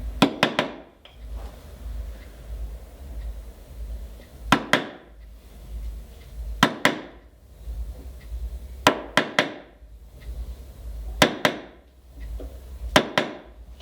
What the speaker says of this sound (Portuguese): Aí eu tenho um formãozinho menor para fazer a marcação lateral.